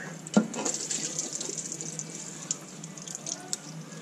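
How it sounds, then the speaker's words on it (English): Water runs from a hose during the tear-down of an LS1 engine, a moderate steady trickle and splash with a few brief clatters mixed in, nearby and without speech. "here goes the water."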